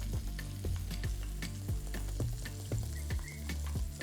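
Sauce ingredients with spices and truffle salt are mixed for a Cajun chicken sandwich, giving quick, steady clinks and scrapes of a utensil against the container over a faint wet sizzle-like hiss, close up.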